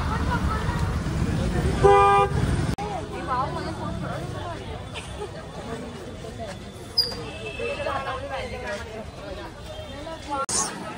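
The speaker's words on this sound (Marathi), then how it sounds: "फुल ट्रॅफिक आहे. फुल ट्रॅफिक." Heavy road traffic near a temple in Maharashtra, with a sharp car horn blast and scattered shorter toots over a steady rumble of engines, while people chatter close by.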